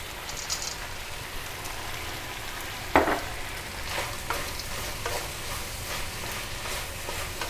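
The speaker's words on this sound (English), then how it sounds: "I'm just gonna turn the heat off and throw in like 100 grams or so, like a half cup of peanuts, toasted salted peanuts" Toasted salted peanuts tossed into a pan of sambal green beans with the heat off, giving a steady close sizzle and frying hiss with light stirring scrapes and one sharper clatter partway through.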